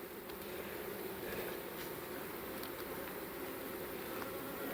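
Honeybees buzzing around agitated beehives next door, a continuous faint swarm hum with occasional louder passes of individual bees nearby, no talking.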